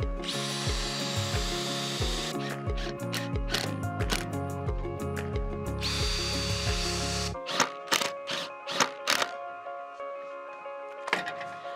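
Power drill driving decking screws meant for steel joists into a steel wheelbarrow frame, heard as a run of short whirring bursts with stops between them, close and fairly loud, followed by scattered knocks and rattles.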